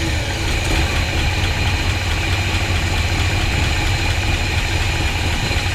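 A 1985 GMC square body pickup with a 454 engine idling steadily, a loud, close, continuous rumble with constant vibration and no talk.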